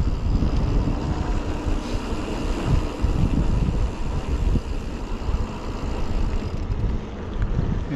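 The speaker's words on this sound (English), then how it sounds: "Super windy." Strong wind buffets the microphone on a steep Towwhee electric mountain bike shuttle ride, a loud, continuous low roar with no letup and no talking.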